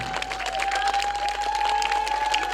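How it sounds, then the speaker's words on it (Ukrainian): A festival audience applauds actors after an outdoor historical reenactment performance, brisk, dense clapping with a few cheers, fairly close, over a steady hum. "Давайте їм поаплодуємо."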